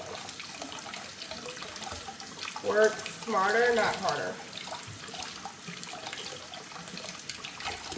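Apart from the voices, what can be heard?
cool tap water running while peeling boiled eggs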